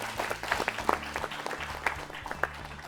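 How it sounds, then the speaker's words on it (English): A school quiz show audience applauds steadily for a team from Bihar, a continuous patter of many hands clapping with scattered louder claps throughout. "Let's clap for them, please."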